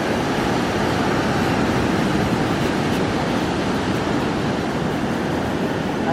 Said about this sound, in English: Quite a bit of white water around the rocks, and then obviously some breaking waves on the beach.